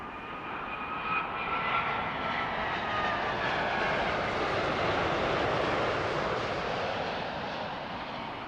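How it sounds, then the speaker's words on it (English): A Boeing 787 Dreamliner lands on Heathrow's 27 left southern runway, giving a loud, continuous jet roar that swells and eases slightly, with throttle corrections and no voices. "Lots of throttle corrections there for that Dreamliner."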